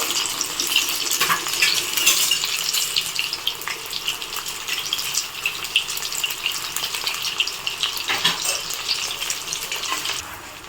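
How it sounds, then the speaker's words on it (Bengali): Jackfruit pieces sizzling steadily in hot oil in a pan, a loud continuous crackling frying sound throughout with occasional stirring or handling noises and no talk. "এখন কাঁঠালের গরম তেলের মধ্যে এক এক করে কাঁঠালের পিসগুলো দিয়ে দিচ্ছি"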